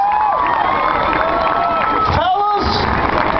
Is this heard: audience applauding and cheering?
yes